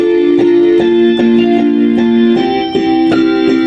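Boss fight melody for the indie video game Will You Snail, a loud synthesized tune with steady sustained tones and rhythmic accented notes repeating about every half second, with no voices.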